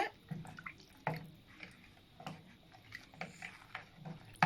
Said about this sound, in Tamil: அதே சேம் கப்பில் 3 கப் அளவு தண்ணி எடுத்துக்கலாம்.